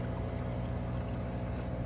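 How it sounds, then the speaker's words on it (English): An aquarium air supply pump runs steadily while drawing killifish tank water into a cup inside a breeder box, giving a continuous close bubbling, gurgling wash with a low motor hum throughout and no voices. "I'm going to turn the air supply on, which will bring in the tank water"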